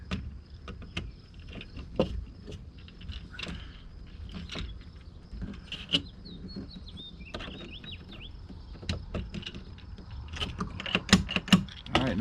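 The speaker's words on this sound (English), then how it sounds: "That little flipper lever, that's what makes that bolt move back and forth." Rattling mechanical clicks and ratcheting from the flipper lever of an RV keypad entry lock moving its bolt back and forth, close and steady throughout, with clusters of sharper clacks toward the end.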